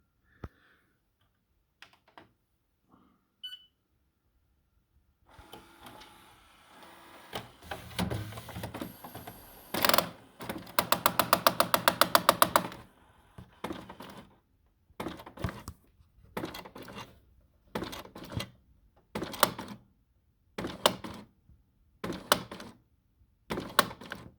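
A Canon TR8550 inkjet printer with its lid open, faulting with error C000, runs its mechanism close by: soft clicks and thunks give way to a dense whirring burst, then a steady series of regular mechanical pulses.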